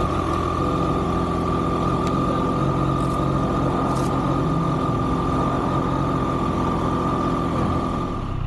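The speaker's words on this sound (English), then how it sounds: "First ride out on the Triumph Street Triple 765 RS Moto2 Edition" A Triumph Street Triple 765 RS Moto2 Edition motorcycle engine drones steadily at a constant pitch throughout, loud and near, with no voices over it.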